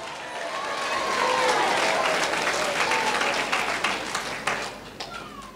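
A church congregation claps loudly and steadily for several seconds, dense broadband clapping that swells early and tapers with scattered claps near the end, while a voice speaks over it.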